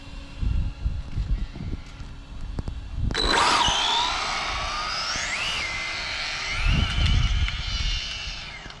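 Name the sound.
Arrma Vendetta RC car driving on speed run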